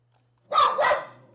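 A puppy gives two quick, fairly loud barks close by, the second trailing off into a short fading tail, with no one talking over it.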